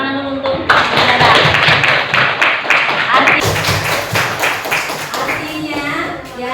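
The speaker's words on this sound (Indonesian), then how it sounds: "tepuk tangan dulu untuk saudara" A classroom of students breaks into brisk, dense clapping that lasts a few seconds before thinning out, with children's voices mixed in.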